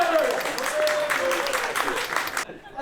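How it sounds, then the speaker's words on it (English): Audience applause at a business meeting event, a crowd clapping steadily for about two and a half seconds under some overlapping voices, then cutting off abruptly. "Let's do applause for the ugly sweaters."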